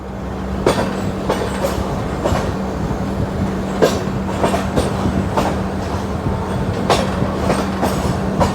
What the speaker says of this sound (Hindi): अभी हमारी ट्रेन ऐसे ही घुमावदार रास्तों से, जंगलों से होते हुए इन पहाड़ों पे चढ़ेगी।